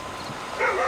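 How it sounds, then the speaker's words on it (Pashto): Dogs barking at night in an Afghan village: a brief faint yelp or whimper-like bark rising near the end, heard over a hiss of background noise. "نور سپي هم په غپېدا را خبر کړل"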